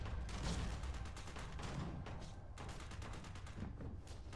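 Gunfire in the video game Starfield: a dense, continuous run of overlapping shots and bursts, quiet and somewhat distant, with no voices over it.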